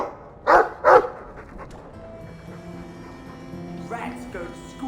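A dog barks twice in quick succession in Dragon Age II, two loud close barks followed by quieter game ambience.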